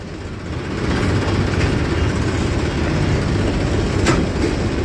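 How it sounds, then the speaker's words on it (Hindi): A tractor hauling sugarcane pulls away with a steady, loud, low diesel rumble that holds constant throughout, close by, with no talking. "चल पड़े हैं जी ट्रैक्टर, बस चल पड़ा है मेरे से अगला भी"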